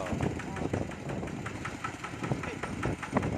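A small walk-behind tractor engine, converted into a mini ride-on tractor, chugs steadily at close range with a rapid, uneven knocking rhythm, while someone talks over it in Thai.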